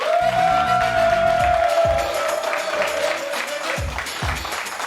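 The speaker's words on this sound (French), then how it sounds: "est-ce qu'on peut applaudir pour Valérie, s'il vous plaît?" A television studio audience applauds on a French evening show, moderate clapping running under a sustained musical tone and low pulses before tapering off.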